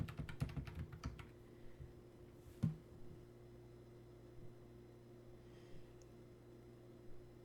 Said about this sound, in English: Or maybe I should type in freeze.